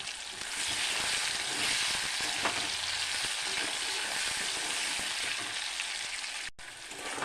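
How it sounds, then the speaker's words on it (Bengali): Tomatoes fry in hot oil in a pan for a paneer dish, giving a steady, close hissing sizzle that runs unbroken, dropping out only for a brief moment near the end. "ভালো করে ভাজার জন্য টমেটোটা দিয়ে দিলাম"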